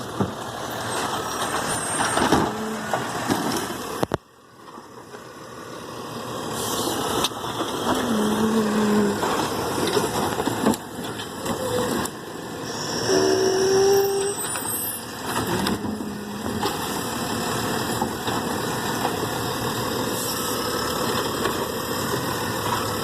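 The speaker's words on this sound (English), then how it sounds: "I love these garbage truck videos" A garbage truck's diesel engine idles and revs steadily, close by, with brief hissing air-brake releases and a sharp clunk partway through, a continuous heavy rumble throughout.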